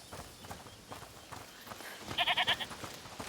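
Short burst of goat bleats in a video game, a cluster of four or five quick nasal calls close together over a faint busy background with no talk.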